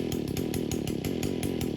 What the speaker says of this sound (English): I'm just waiting for my power tool to start up